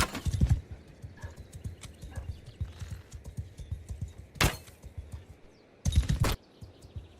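A galloping horse in the video game Mount and Blade Bannerlord 2 beats out a steady, rapid rhythm of close hoofbeats, broken by a couple of loud sharp impacts and a hint of whinnying.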